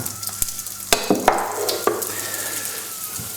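Chorizo sizzling as it hits a warming pan, a steady frying hiss with sharp crackles and a few stirring clatters over about three seconds, close and clear with no talking.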